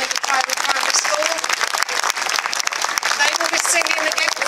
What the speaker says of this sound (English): let's have another round of applause for the wonderful children at the primary school